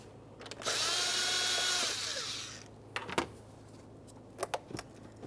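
A power tool whirs steadily for about two seconds while loosening a 7mm hose clamp on a 2014-2018 Mazda 3 during A/C condenser work, then winds down, followed by a few sharp metallic clicks and taps nearby.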